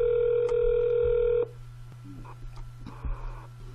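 A telephone call is hung up on a scam caller, leaving a steady dial-type tone that cuts off abruptly, followed by quieter line noise and faint clicks.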